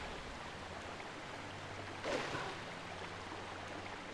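Flowing river water heard while riding the current in Zelda Twilight Princess HD, a steady soft rushing wash with a brief louder splash midway, low and continuous without talk.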